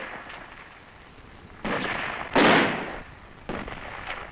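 Small arms and mortar fire in a 1963 Vietnam ambush, from vintage 16mm film: three sharp, loud bursts of gunfire and blasts, each trailing off, over a thin background hiss.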